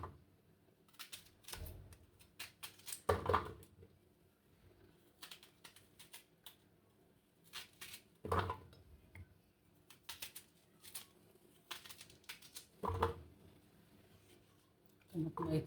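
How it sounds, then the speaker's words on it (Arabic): Onion is chopped in a food chopper for a grilled chicken marinade: short, sharp clattering bursts every few seconds, with quieter tapping and handling noise in between. "اقطع البصل في الكبه"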